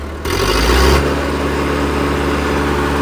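A Mahindra Arjun Novo tractor engine runs without a silencer, a loud, raw, steady low rumble with a brief surge near the start before settling into an even idle.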